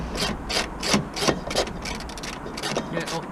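A hand ratchet clicks in quick, uneven bursts while tightening a 17mm nut on the air filter housing of a Volvo B10BLE bus, close and fairly quiet, about a dozen short strokes.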